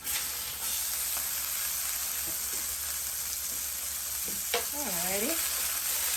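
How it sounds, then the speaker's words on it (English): Ground beef frying in a hot pan while its fat renders, a loud, continuous, dense sizzle throughout, with a short voice sound near the end. "Because once the beef starts to render, you're going to have more than enough oil in the pan."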